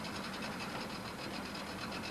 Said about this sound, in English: Start the engine and allow it to reach operating temperature.